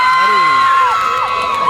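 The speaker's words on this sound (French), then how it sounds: "ça crie dans le public" Audience at a cosplay parade during a geek convention in Bordeaux shouting and cheering, a steady loud crowd roar with whoops and high voices rising over it throughout.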